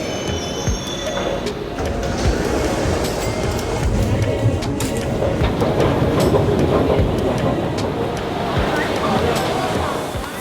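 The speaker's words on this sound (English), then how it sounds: "And here comes my train now." A Singapore metro train rolls into a station, a steady loud rumble of wheels and motors with station ambience, sustained throughout at close range.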